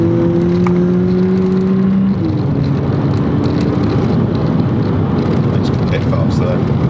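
A 2022 Volkswagen Polo GTI in manual paddle-shift mode accelerates hard, its engine a loud, sustained drone heard from inside the car, with a rising tonal whine early that blends into a broad roar.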